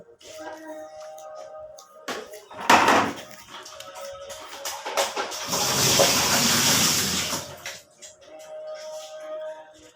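A repaired washing machine that had been leaking runs with water inside, a brief bump followed by a loud whooshing surge of draining water that swells and then fades, with no talking.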